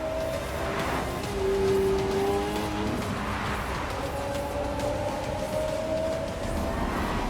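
Rimac all-electric supercar with 1,241 brake horsepower and four electric motors, one per wheel, driving with a steady whining electric motor tone that rises and shifts in pitch over constant road and wind noise.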